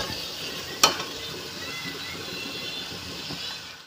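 Chicken meat being sautéed in a pan, a continuous close sizzle with one sharp clack of the spatula near the start, then a steady frying hiss until it fades out.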